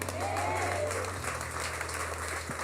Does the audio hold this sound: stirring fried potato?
no